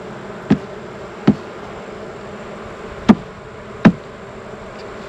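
Honey bees from an apiary hive during a honey harvest make a steady, close insect buzz, broken by four sharp knocks spaced unevenly.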